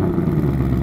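A 2021 Ford Mustang GT convertible engine runs just after a remote start, giving a loud, close, steady low rumble for under a second.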